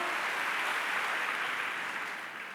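An audience at a church sermon breaks into applause, a dense, loud wash of clapping that holds steady and then begins to fade toward the end, with no talk over it.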